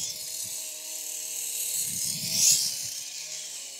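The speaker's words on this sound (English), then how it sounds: "pardon the drilling noise in the background there" A steady high-pitched mechanical whine runs throughout, swelling briefly midway, with low muffled thumps and faint murmuring underneath, like distant power drilling at a park playground construction site.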